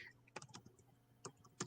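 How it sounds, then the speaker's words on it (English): Quick typing on a computer keyboard comes as a few scattered clicks in two short bursts, quiet and close, with no talking. "I'm typing real quick here for Greg."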